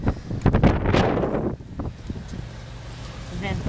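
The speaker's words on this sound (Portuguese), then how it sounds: "Ventando muito." Strong wind gusts buffet the microphone during heavy snowfall, with rumbling bursts and rustling noise that ease off partway through, and a faint voice in the background.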